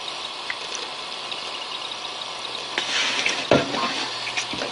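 Antifreeze is poured into a container already holding oil, giving a steady, close liquid hiss that thickens into a gurgling splash toward the end, with no voices.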